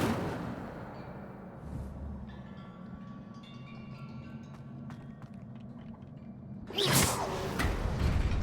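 Incendio fire spell cast in the video game Hogwarts Legacy: a low rumbling ambience with faint chiming tones, then a sudden loud whooshing burst of flame that roars on near the end.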